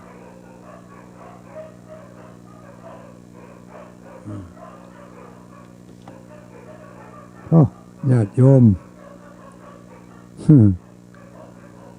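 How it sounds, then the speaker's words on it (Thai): A dog barks in a few sharp, tonal yelps: one brief yip, then a cluster of three close barks and a final bark, over a steady background hum with someone speaking softly. "สุนัขขามาเห่าเนอะ"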